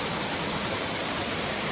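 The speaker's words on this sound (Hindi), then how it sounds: "मस्त पानी गिर रहा है" A waterfall at Elephant Cave near Shillong roars as a steady, dense broadband rush, close and loud with no voices over it.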